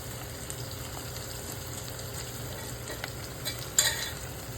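Salted onions frying in a pan for an egg and flat bean curry, a low, steady sizzle with faint occasional stirring taps and a louder scrape near the end.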